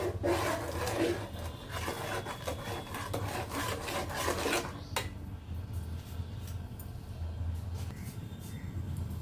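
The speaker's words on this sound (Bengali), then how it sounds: "এরপর আমি ভালোভাবে নাড়াচাড়া করব যেন নিচে লেগে না যায়" A spoon scrapes and stirs a thick palm cake batter in a pan over low heat. Steady rasping strokes run over a low background hum; the scraping fades after about five seconds, leaving quieter rubbing.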